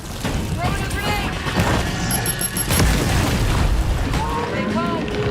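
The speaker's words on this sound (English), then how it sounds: "Throwing a grenade!" A grenade explodes in the video game Gears of War: E-Day, a heavy boom that swells out of dense battle noise with scattered gunfire and rumbling debris around it.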